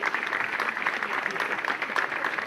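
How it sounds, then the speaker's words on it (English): Applause from an audience at the launch of the 2014 Voltcom Crescent Suzuki motorcycle racing team, a steady dense patter of clapping filling the whole stretch at moderate level. "I reckon a big round of applause for the people who designed those"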